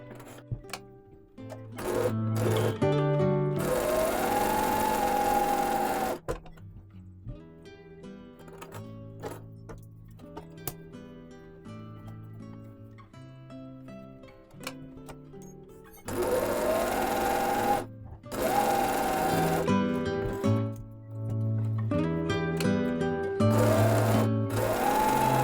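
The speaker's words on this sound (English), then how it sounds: "So start with a back stitch, back, back stitch," A sewing machine back-stitches a DIY Christmas gift bag, loud and close, running in long whirring bursts that stop and restart with brief pauses and clicks between them.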